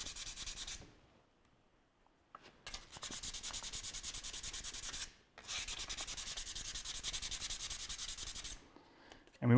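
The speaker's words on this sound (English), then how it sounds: "it's just a matter of sanding this down" Steady rhythmic rasping of higher-grit sandpaper rubbed back and forth on a DIY pinhole camera part, close up, in two long bursts separated by short pauses.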